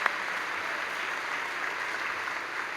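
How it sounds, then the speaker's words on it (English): Steady applause from a concert audience at a high school spring concert, a dense continuous clapping wash that holds evenly throughout without a break. "Let's give them a round of applause."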